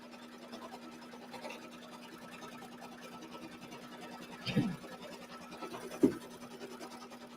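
A home sewing machine stitches a batting placement line on a quilt with a quiet, steady mechanical whir and rapid needle ticking, with two brief louder knocks partway through.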